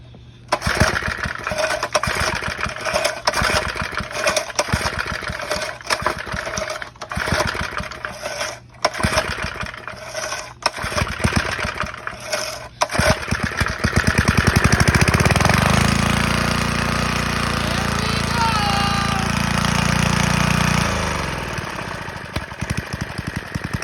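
A 2.5 HP Briggs and Stratton small engine, fitted with a home-built filter, is test-run. It sputters and pops irregularly at first, then settles into a loud, steady, close droning run.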